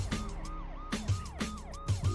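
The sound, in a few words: police car sirens in the distance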